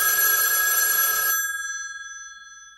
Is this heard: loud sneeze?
no